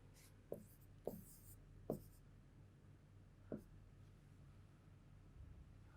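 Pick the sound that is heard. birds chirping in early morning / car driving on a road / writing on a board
writing on a board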